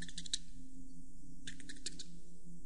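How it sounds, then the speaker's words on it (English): Computer keyboard typing, used as a sound effect for an on-screen type-text animation: two quick bursts of key clicks separated by a pause, close and fairly faint over a steady low hum, with no voices. "Kind of like when you're typing on a keyboard"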